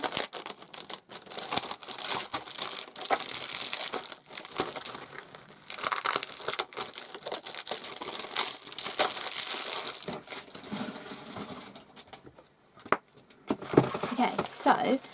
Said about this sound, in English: I'll take them out of the packaging so you can see them a bit better.